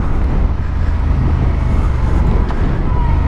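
Honda XL750 Transalp motorcycle on a test ride, engine running under a loud, steady rush of wind and road noise that buries most engine detail, with no talk.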